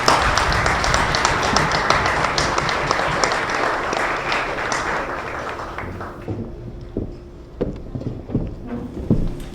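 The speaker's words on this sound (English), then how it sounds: "Round of applause, please." An audience claps steadily and densely at a women's storytelling event, the applause filling the room for about six seconds before thinning out to a few scattered claps.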